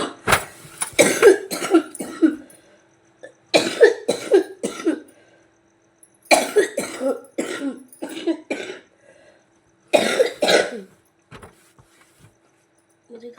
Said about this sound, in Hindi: मुझे खांसी बहुत आती है।